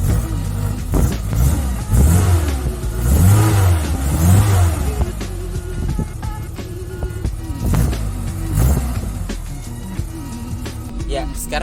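A small 1000 cc car revving and accelerating, heard from inside with repeated engine surges rising and falling, then easing to a quieter hum as a voice talks over it.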